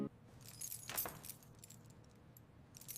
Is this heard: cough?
no